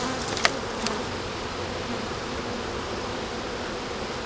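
A large swarm of honeybees buzzes at a hive colony in September, a dense, even drone held close and steady with a couple of brief louder passes near the start.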